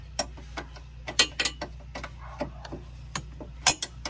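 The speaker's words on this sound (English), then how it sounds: "I go ahead and undo the last nut. And it takes a little longer to use the wrench" A wrench works loose the last nut on the front strut assembly of a 2013 Dodge Journey 3.6 SXT, giving a series of sharp, irregular metallic clicks and ratcheting ticks close up over a low hum.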